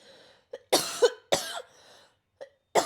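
Several sharp coughs in short bursts, close and fairly loud, with brief quiet gaps between them.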